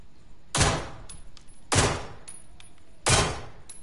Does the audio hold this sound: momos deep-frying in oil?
no